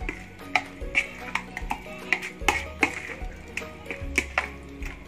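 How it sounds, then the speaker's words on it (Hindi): A spoon stirs ground turmeric, red chilli and garam masala into vegetables in a pot for veg dum biryani, giving a steady run of close scraping taps and knocks against the metal, with no talking. "ये देखिए मैंने अच्छे से मिक्स कर दिया।"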